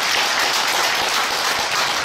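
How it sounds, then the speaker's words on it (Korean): Church congregation applauding a vocal ensemble, a dense steady wash of many hands clapping throughout, fairly loud and close. "중창단 위에서 다시 한번 감사의 박수 하겠습니다."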